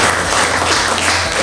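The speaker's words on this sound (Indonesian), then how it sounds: "Tepuk tangan dong." A classroom of vocational high school students at SMK Negeri 16 Jakarta claps together in a dense, steady burst of applause, close and fairly loud, without talk.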